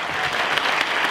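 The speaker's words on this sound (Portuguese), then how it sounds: "vou pedir uma salva de palmas aos organizadores desse evento" An audience at a gaucho cultural event gives the organizers a dense, continuous round of applause, close and even throughout the brief stretch.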